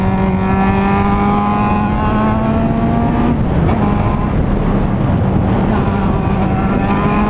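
Honda Hornet motorcycle with the catalytic converter removed, its engine rumbling steadily and loud up close, with sustained revving tones that rise and hold through the whole stretch.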